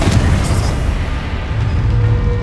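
A Confringo blasting spell in Hogwarts Legacy detonates inside a small mine, giving a loud, deep boom with a low rumble that lingers and fades slowly.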